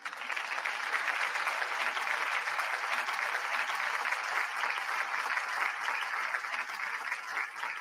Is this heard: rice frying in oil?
no